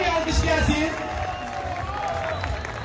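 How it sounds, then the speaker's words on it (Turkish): Audience at a bowling final award ceremony in Prague clapping and cheering for Volkan Dede as he is welcomed on stage, a steady crowd wash lasting throughout with voices mixed in. "Volkan Dede'ye kocaman bir alkış gelsin"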